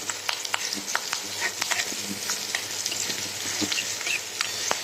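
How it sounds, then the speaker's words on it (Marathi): Finely chopped garlic cloves roasting in a pan, a steady close sizzle broken by frequent sharp pops and small crackles, with no speech. "लसूण चांगलं भाजून घेऊ"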